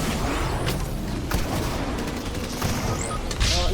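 Steady, dense gunfire from an overused weapon in a video game, loud and close, with continuous shots and booms and no talk over it.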